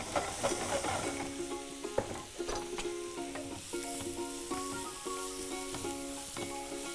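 Onions and ingredients for Kolhapuri misal sizzle and are stirred in a pan, a steady close frying hiss with scraping stir strokes, while background music plays.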